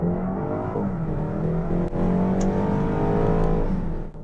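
BMW's 2.0L turbocharged inline-four revs loudly up close, a sustained smooth roar with a brief dip in the middle before climbing again, with no talk over it.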